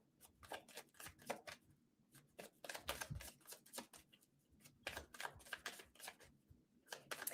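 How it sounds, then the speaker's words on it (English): Tarot cards being shuffled in quick bursts of riffling and slapping, several rounds separated by short pauses, close and fairly quiet. "Couple more shuffles for Libra."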